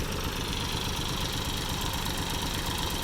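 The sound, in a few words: tractor engine running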